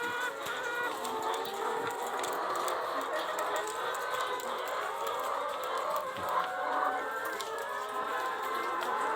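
Many chickens at nipple drinkers on an egg farm fill the air with a dense, continuous chorus of clucking and murmuring calls, steady and moderately loud with no voices over it.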